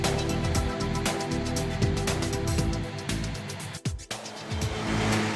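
Krone Big M self-propelled mowers with a 500 hp engine and three mowing units covering 13.2 metres work across a field. A loud, continuous engine roar rises and falls, dips briefly, then returns to full strength.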